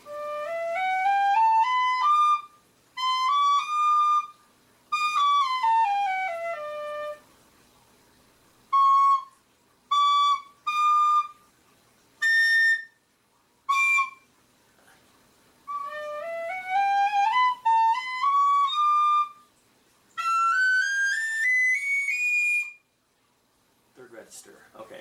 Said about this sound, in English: I forgot a lot of tin whistle.